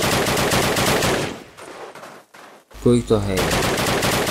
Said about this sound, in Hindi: दो तरफ से फायर हो रही दो तरफ से एक सामने से एक इस तरफ से